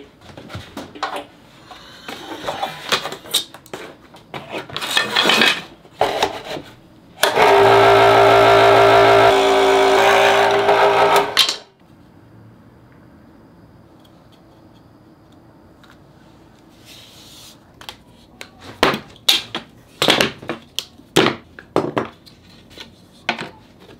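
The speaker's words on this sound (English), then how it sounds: "so now I'll cut this off here with a scroll saw." A scroll saw cuts umbrella sword parts in a loud, steady burst of about four seconds, preceded and followed by clattering knocks and handling of the workpiece on the bench.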